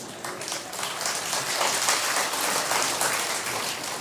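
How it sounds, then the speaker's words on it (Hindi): Dense, steady clapping from an audience fills the scene, loud and continuous throughout with no voices on top. "उसमें ताली बनती है कि नहीं बनती?"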